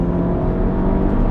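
A 280bhp SEAT Leon Cupra at speed on a race track, with a loud, steady engine drone heard close from inside the car.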